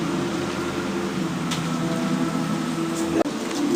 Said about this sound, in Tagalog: Heavy rains lang yan, tingnan mo.